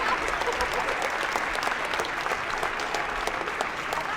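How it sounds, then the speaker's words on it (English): At a high school girls' basketball game in a gym, the crowd gives military personnel a long, steady round of applause, many hands clapping evenly at a moderate distance, with faint crowd noise beneath. "getting a well-deserved round of applause from those here in attendance"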